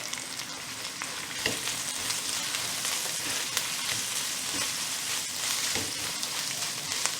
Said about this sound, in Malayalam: തേങ്ങാക്കൊത്ത് ഒന്ന് ചെറുതായിട്ട് മൂപ്പിച്ചിട്ട് ഇതിലേക്ക് ഇടാൻ പോണത് ചതച്ചെടുത്ത ഇഞ്ചിയാണ്